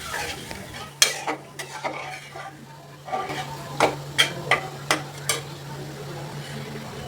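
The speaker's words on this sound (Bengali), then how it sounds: "ঝোল দিয়ে আমি আবারও ভালোভাবে নাড়াচাড়া দিয়ে একটু কষিয়ে নেব।" A spoon stirs shrimp curry with gravy in a pan over a low sizzle, giving a steady run of close scrapes and sharp clinks against the metal, loud and alone with no talk.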